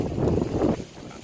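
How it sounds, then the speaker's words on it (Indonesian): Strong wind gusting across the shore of Lake Lut Tawar, a broad rushing roar of buffeting microphone noise that swells loud in the first half then eases slightly, with no voices. "Angin lagi kencang-kencangnya nih guys."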